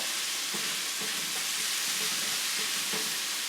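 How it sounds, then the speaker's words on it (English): Brown sugar being stirred into a sizzling meat sauce in a frying pan, a steady loud fry hiss with soft scraping strokes of the spoon at a regular rhythm, close up and with no talking. "let's stir this around"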